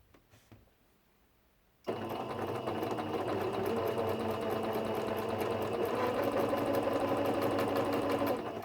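A freshly cleaned sewing machine starts up after a brief quiet moment and runs steadily at a fast, even hum with a light mechanical whir, with no clacking.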